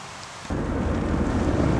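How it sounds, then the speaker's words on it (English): Heavy rain with a deep rumble of thunder starting abruptly, a dense steady roar of falling water with low booming underneath. "I wonder if this rain symbolizes Joe's death"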